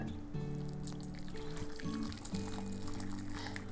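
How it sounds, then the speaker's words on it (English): Hot pork ramen broth, about two cups, poured from a pot into a large bowl, a steady close liquid pour with a low tonal ring as the bowl fills. "now you want to gently pour this into a bowl that's gonna be big enough to hold that 2 cups of liquid"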